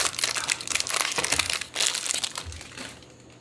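A single-use 35mm disposable camera, an Ilford Ilfocolor Rapid, is pulled out of a crinkly plastic bag, giving a steady close crinkling and crumpling that fades near the end.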